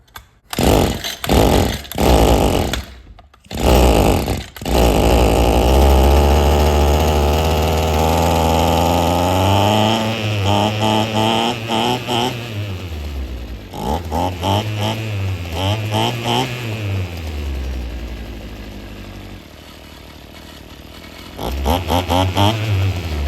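An Echo SRM-2100 string trimmer, after a carburetor swap, is yanked by its pull cord several times, then fires and runs loud and close, its two-stroke engine revving up and down and settling between throttle blips.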